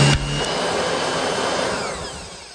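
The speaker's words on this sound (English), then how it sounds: "It's like a Nilco vacuum." A loud upright vacuum cleaner with a self-propelled brush bar, compared to a Nilco model, runs steadily with a harsh, continuous roar and a sharp switch-on at the start.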